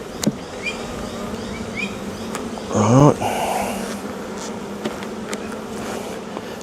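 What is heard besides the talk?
bees buzzing during beehive brood inspection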